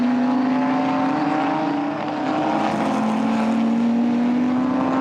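GT4 race cars at the Nurburgring climb uphill out of the Dunlop curve, a steady droning engine note rising slowly in pitch, loud and continuous with a slight dip midway.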